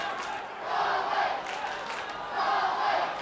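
Roar of a large crowd of about 20,000 at the 1990 Connacht senior Gaelic football final between Galway and Roscommon, a distant, massed swell of cheering and shouting that rises and falls in waves.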